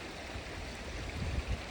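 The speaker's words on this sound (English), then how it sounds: "Look at this river, guys." A still, shallow river near a Chilliwack campsite flows with a steady broadband rush, and low gurgles rise briefly near the end.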